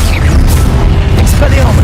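Levioso levitation spell cast in the Hogwarts Legacy video game, a brief loud booming burst set in continuous dense game noise.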